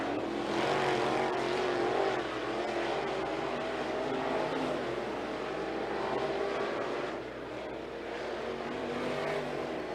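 IMCA Modified race cars running hot laps at Sunset Speedway, a continuous roar of several engines heard from a distance, rising and falling slightly as the cars circle the dirt track.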